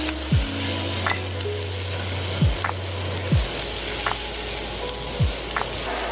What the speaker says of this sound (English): we're just gonna do like a saute sweat until the edges become translucent.